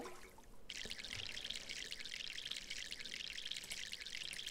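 Garden plants being watered in MySims, a steady bright hiss of spraying water starting abruptly and running evenly, fairly close but soft.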